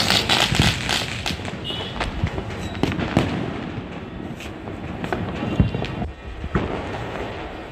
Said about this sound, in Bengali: বাজি ফাটানোটা দেখে আজকে ভিডিওটা এখানেই শেষ করবো